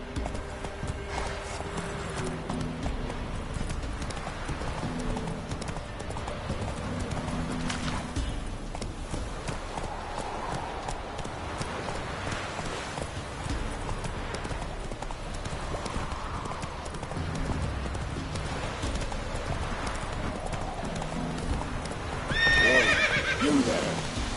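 Video game horse hooves clip-clop steadily at a gallop for a long stretch, with loud whinnies and neighs breaking through, all close and continuous with faint voices now and then.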